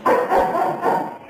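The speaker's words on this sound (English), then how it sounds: "These dogs are barking." Dogs, a toy poodle and Griffon cross, bark in a short burst heard over a phone line, muffled and close, with a few yips crowding together in about a second.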